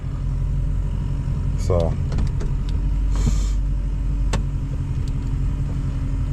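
Car idling in drive in first gear, a low steady engine rumble close by, with scattered clicks and a brief whine while someone talks.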